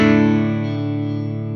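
Fender Jazzmaster electric guitar from the 2023 Japanese Traditional 60s Competition line, played on the neck pickup with the rhythm circuit: a single sustained chord rings out clean and warm, decaying slowly and heard alone.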